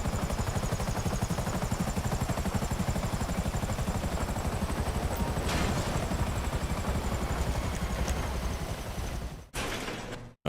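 Black Hawk helicopter in flight in GTA Online, a dense continuous rotor drone and engine whine that stays loud and steady, with a few sharp mechanical clicks before a brief cutout near the end.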